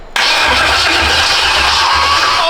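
Engine of an LS-swapped Chevy OBS truck cranking on a jump box makes a loud, close, rhythmic churning that starts abruptly and keeps turning over without catching.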